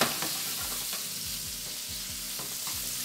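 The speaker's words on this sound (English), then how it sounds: "get the shrimp cooking" Shrimp sizzle and crackle steadily in a hot pan for a one-pan meal, with rhythmic stirring scrapes close up and no voices.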